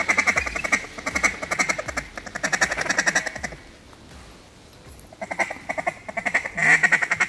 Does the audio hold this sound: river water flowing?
no